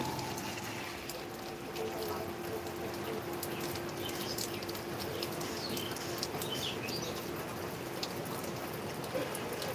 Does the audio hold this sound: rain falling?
yes